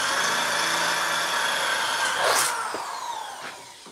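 Power drill boring a hole through the front center of a helmet, a sustained whining drone with a pitch that sags and shifts as the bit bites, tapering off near the end.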